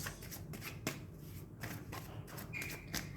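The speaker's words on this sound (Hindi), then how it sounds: "अभी मैं और कार्ड्स ले लेती हूँ, एक कार्ड और चाहिए बस" Tarot cards being shuffled and drawn from the deck, a quick run of crisp papery riffles and flicks with a few sharp snaps, close and fairly soft, with no talk.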